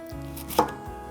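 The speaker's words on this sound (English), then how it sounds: "Cut about 3 slices, and then here is your beet ready to put into your soup." A knife slicing through a beet on a cutting board as a soup vichyssoise is prepared: a single crisp close chop standing out over a quiet kitchen background, with no talk.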